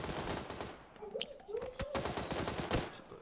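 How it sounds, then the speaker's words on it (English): Gunfire in the video game PUBG, rapid crackling shots and bursts throughout, close and fairly loud, with a faint voice underneath. "Someone's shooting at me."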